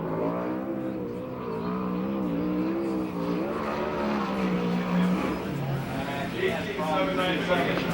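A USAC/CRA sprint car laps the Perris oval, its engine droning and surging steadily through the lap while an announcer talks over it throughout.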